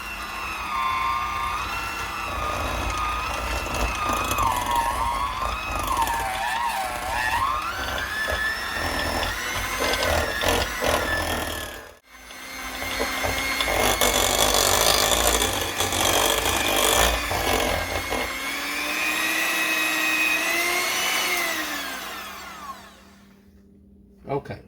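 Electric hand mixer beating cream cheese for a Hawaiian cake, a loud, steady motor whine that shifts in pitch as the beaters work, pausing briefly midway before resuming, with no voices.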